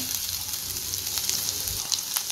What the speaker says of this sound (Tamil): இதையும் நல்லா பொன்னிறமாக வறுத்து எடுத்துக்கலாம்.